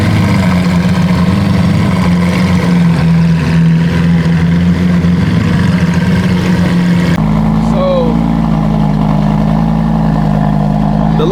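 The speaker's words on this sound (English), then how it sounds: "So now we have both the Aventadors leaving out." Two Lamborghini Aventadors pulling out of a car meet, their engines droning loud and steady with a low rumble that shifts pitch partway through as they accelerate away; voices chatter over the engine noise.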